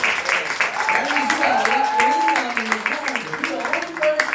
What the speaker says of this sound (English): Can we clap it up for Mrs. France one time?